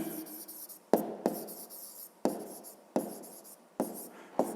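Pen scratching on paper while numbers are written by hand, close soft scratchy strokes in short bursts separated by sharp taps as each figure starts.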